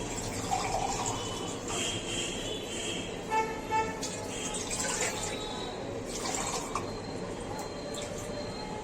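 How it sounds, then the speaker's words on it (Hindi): Water runs from a tap into a washed cooking pot for rice kheer, a continuous gurgling fill with splashy bursts at moderate loudness, and no one talks over it. "इसमें पानी ऐड कीजिए आप।"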